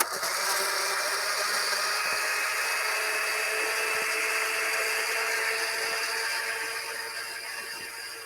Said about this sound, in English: Just close the blender and puree until smooth.